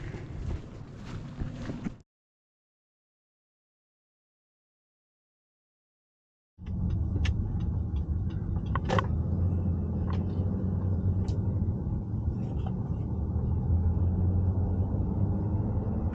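A car drives along Shades of Death Road, heard as a steady low road-and-engine rumble from inside, with a few light knocks and rattles. The rumble starts after a short snippet of noise and several seconds of silence.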